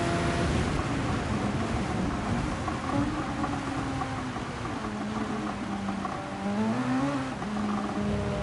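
Race cars come around turn one at Spa-Francorchamps in wet, tricky conditions: a loud engine wail climbs and falls in pitch as several cars pass one after another over a wash of spray and road noise.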